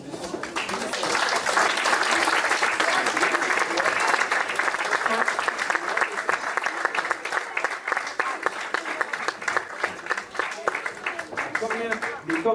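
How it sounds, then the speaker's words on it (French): An audience applauds school orchestra musicians, including cornets and saxophones, at a school orchestra inauguration, sustained dense clapping that swells early and then thins slightly, continuing throughout with faint voices mixed in. "Et on peut encore les applaudir."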